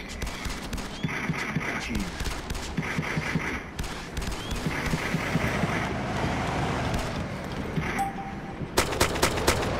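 Gunfire in Arma 2 Operation Arrowhead, including a heavy machine gun mounted on a jeep: sustained rattling bursts of shots at middle distance with wind noise, ending in a closer, louder string of sharp shots. No talk.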